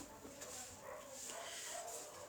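Dogs bark outside, muffled and distant, with a few faint barks and yips scattered over a steady indoor background hum.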